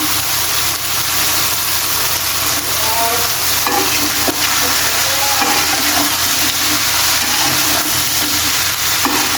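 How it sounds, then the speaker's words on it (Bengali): Vegetables fry in a pan after turmeric and salt are added, giving a steady, loud sizzle throughout, with occasional stirring scrapes and a constant low hum underneath. "তো ভাজিগুলো দিয়ে দিলাম। এখন লবণও দিয়ে দিলাম।"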